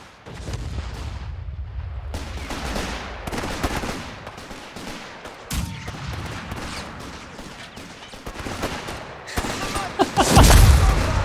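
Mortar and artillery fire in the video game Company of Heroes 3, with booming impacts and scattered gunshots across a battlefield, building to a loud close blast near the end.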